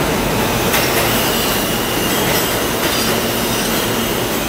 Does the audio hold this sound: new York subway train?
yes